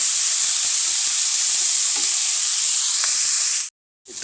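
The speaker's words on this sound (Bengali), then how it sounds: "এরপর সব মশলা নুন সব একসঙ্গে দিয়ে দিলাম, একটু ভাজা ভাজা হোক" Spices and salt sizzling and frying in a pan for a fish-head ghonto, a steady close hiss running throughout, then a brief gap of silence before it resumes.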